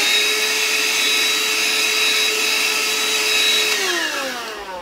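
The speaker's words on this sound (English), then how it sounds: "So I'm just going to use my handheld hoover now." A handheld vacuum cleaner sucks brick dust out of a hole drilled in a brick wall for a heavy shelf, a steady close whining roar that holds level, then drops in pitch and fades as it winds down at the end.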